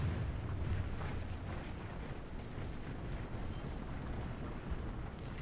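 Catapults fire during a Medieval II Total War siege battle (Stainless Steel mod), a dense, continuous rumbling din of heavy booms and impacts that holds steady and loud throughout, with no voices.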